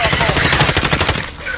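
Rapid automatic gunfire from Call of Duty: Modern Warfare, a loud, close burst of evenly spaced shots lasting over a second before cutting off, with faint game sounds after.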